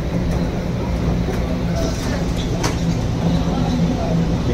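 Steady loud rumble of a Mumbai monorail car in motion, a continuous low hum with faint rattles and clicks running throughout the ride.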